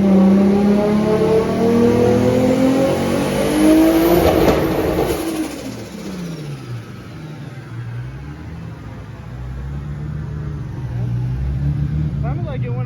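A Toyota Supra engine revs loudly, its pitch sweeping up and down in repeated surges, then settling into a lower, steady rumble.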